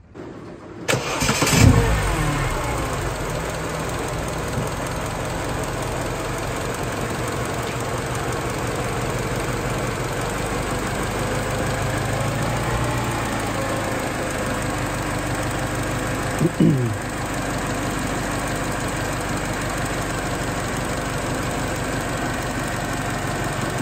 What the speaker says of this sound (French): vous montrer de devant comment le moteur tourne en le redémarrant